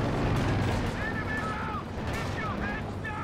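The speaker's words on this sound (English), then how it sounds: "Can't be too close to the trees or your rocket artillery will connect with them." Rocket artillery fires in a Company of Heroes 2 multiplayer match, a rolling wash of launches and blasts rumbling steadily, with a caster's voice commentating over it.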